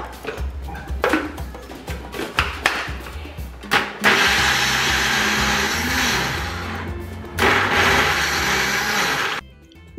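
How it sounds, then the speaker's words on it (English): A blender roars blending pepper and onion in two long bursts, separated by a brief dip, after some earlier clinks and handling sounds, then stops abruptly. "that's what I've just put in the blender"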